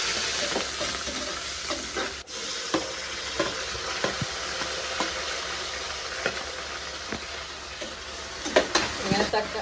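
Onion, green chili, tomato, ginger-garlic paste, curry leaves and a stock cube cooking together in a pot for tomato rice, with a steady soft sizzle broken by stirring scrapes and spoon knocks against the pot.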